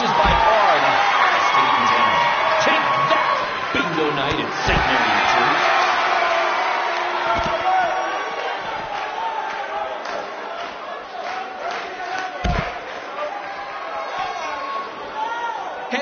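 Crowd in a wrestling arena in WWE 2K19, a dense roar of cheers and chatter running throughout with occasional thuds and slams, while someone talks over it.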